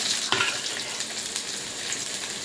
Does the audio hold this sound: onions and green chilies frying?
yes